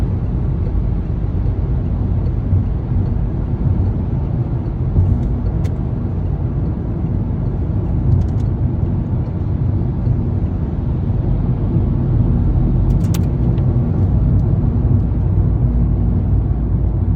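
Car accelerating during a driving lesson on a road, a steady low engine and road rumble heard from inside the cabin, continuous and fairly loud with a few faint clicks.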